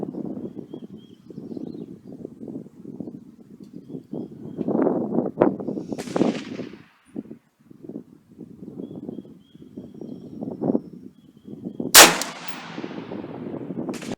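An AR-15 rifle is fired with 100 grain Sierra Pro Hunter loads outdoors, a few sharp reports, the loudest near the end, over a background of soft rustling and handling noise.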